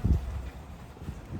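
Gusts of wind buffet the microphone outdoors near a Costco supermarket in low rumbling bursts, with faint background noise and no speech.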